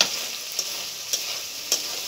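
Spice paste frying and being stirred in oil, a continuous bright sizzle with a few soft scraping stir strokes at regular intervals.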